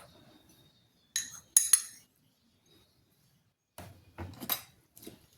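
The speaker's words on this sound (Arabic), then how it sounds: "وغادي نحركو هاد الصابون حتى يتجانسنا مع ديك الطماطم" A spoon scrapes and clinks against a bowl while mixing grated Dove soap with tomato, in a few short bursts separated by quiet pauses, close and fairly soft.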